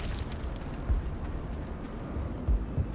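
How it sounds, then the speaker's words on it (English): Battle in the video game Mass Effect, with a steady dense roar of gunfire and explosions and a few heavier booming thumps standing out near the end. "How is a woman supposed to think with guns going off all around?"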